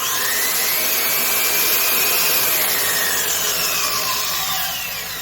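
A third-generation Makita professional hypoid circular saw runs at full speed, a loud, steady high-pitched whine with a rough mechanical undertone throughout, tapering slightly at the end.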